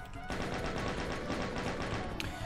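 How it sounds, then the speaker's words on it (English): A chain gun fires in rapid, continuous bursts in Doom II, its dense rattling shots loud and sustained for about two seconds, with game sounds in the background. "I think we can pretty much use a chain gun now."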